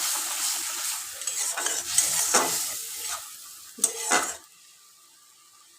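Pointed gourd curry masala sautéed and stirred in a pan with a little sugar, a close sizzle under repeated spoon scrapes against the metal, ending in a couple of sharper clinks before it goes quiet.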